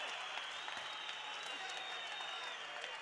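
Kickboxing fight crowd at a KOK event, a distant, fairly quiet, steady wash of cheering and applause that fills the arena without letting up.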